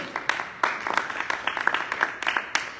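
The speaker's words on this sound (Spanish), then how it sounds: "Give the Lord a hand of praise" A church congregation claps together in a quick, uneven rhythm of sharp, close claps that keeps going for a few seconds with no talking.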